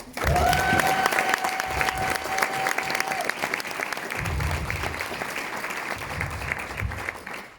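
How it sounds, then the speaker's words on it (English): A crowd applauds steadily throughout, dense clapping at close range, with a brief whoop or whistle rising above it early on. "give it a huge roof-raising round of applause, please"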